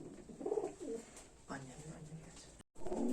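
A pair of black lakka fantail pigeons coo in short, throaty bursts at close range, with low murmuring voices in the background.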